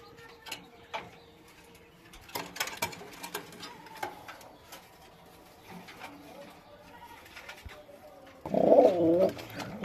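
Racing pigeons in a breeding pair's loft with chicks coo in a close, loud burst near the end, after a stretch of quieter rustling and faint background sounds.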